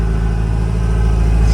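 Engine of a 14,000-mile 1987 Ferrari Testarossa running steadily at idle, a close, constant low hum with no change in pitch and no voices.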